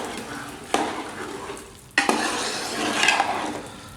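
Dal mash gets stirred in a sizzling pan, with two sharp clanks of a spoon against the pan followed by continuous scraping and bubbling frying, close and moderately loud with no talking.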